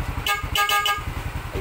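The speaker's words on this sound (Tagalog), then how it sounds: "Dual horn." A loud aftermarket dual horn on a Yamaha NMAX 155 scooter toots several short blasts close by, the bright tones separated by brief gaps over a low engine hum.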